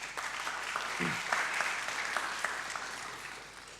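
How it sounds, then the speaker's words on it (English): Meeting audience applauding a speaker after a synthetic biology presentation, a moderate round of scattered clapping with some individual claps standing out, slowly fading toward the end. "Please give us a round of applause."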